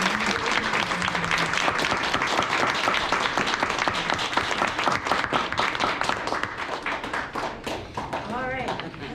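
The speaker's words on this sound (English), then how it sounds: "One more round of applause." Sustained audience applause and clapping at a school play sharing day, dense and steady throughout, with voices and cheers mixed in near the end.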